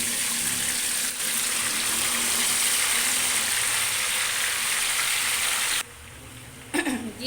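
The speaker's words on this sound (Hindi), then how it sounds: "तो अब मैं जो है चिकन को भी फ्राई करती हूँ" Marinated chicken fries in oil on a low flame, a loud dense sizzle that runs steadily and then cuts off abruptly, followed by quieter clatter.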